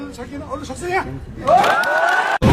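A crowd welcoming Nepali politician Sher Bahadur Deuba: a voice talks at first, then a loud swell of cheering and shouting rises and holds before cutting off abruptly.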